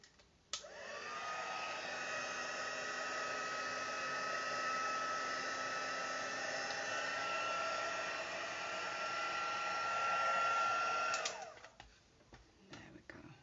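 A heat tool blows hot air over craft material for autumn leaves home decor, a steady loud whirring hum lasting about ten seconds before clicking off, alone without talk.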